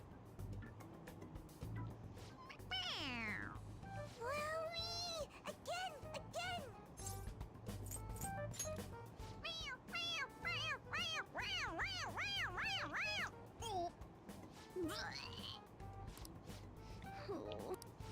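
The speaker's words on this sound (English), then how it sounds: "It meows when you press on its head." A toy cat in the video game Persona 5 Royal gives a string of repeated, high meows in quick bursts when pressed on the head, fairly faint, with a voice exclaiming briefly between them.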